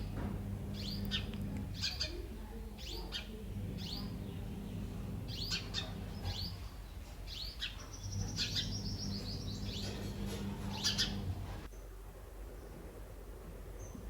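Sparrows that raised two chicks in a nest among a money-plant vine chirp and twitter in quick repeated calls, with a steady low hum underneath for most of the stretch.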